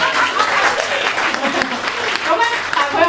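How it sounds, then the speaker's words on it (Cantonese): An audience at a Cantonese stand-up comedy show applauds steadily for about three seconds, a dense even clapping that fills the room. "上述嗰啲我俾啲掌聲佢"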